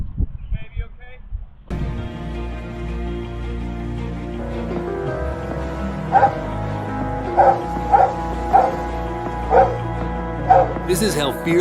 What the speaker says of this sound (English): The neighbor's dog tried to lunge at him.